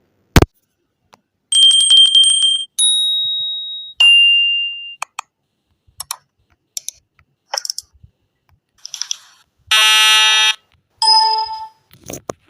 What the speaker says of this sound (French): je peux donner en fait un son d'alerte avec ça